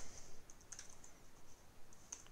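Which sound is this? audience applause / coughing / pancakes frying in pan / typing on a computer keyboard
typing on a computer keyboard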